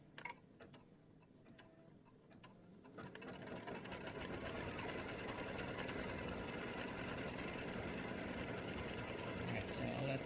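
A home embroidery machine stitches a free-standing lace bat design. After a few scattered clicks, a steady, fast mechanical whir and rapid needle ticking start up and run on at an even level, close by.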